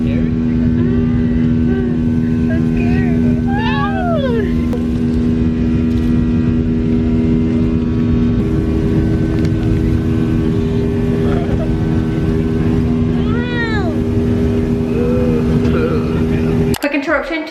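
Airplane cabin noise during flight just after takeoff: a steady loud low hum with tonal drone throughout, while children and adults talk and chatter over it, and a brief rustle near the end.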